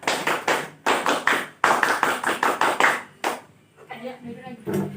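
Children do the scout clap (tepuk pramuka) in a classroom, loud sharp claps in quick rhythmic bursts with short pauses between groups, ending with a few claps alongside talking.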